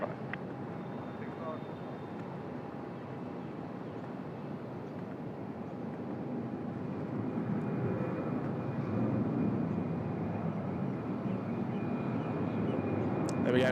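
A jet airliner inbound from San Francisco approaches Sydney Airport, its steady, broadband roar slowly building as it nears, with a faint tonal whine present throughout.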